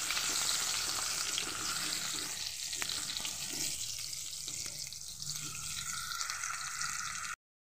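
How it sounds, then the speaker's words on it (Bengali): Salted potatoes fry in hot oil in a pan for a desi chicken jhol, giving a continuous close sizzle that eases slightly midway, with no speech. "আলুগুলো তো তখন ভাজা হচ্ছে"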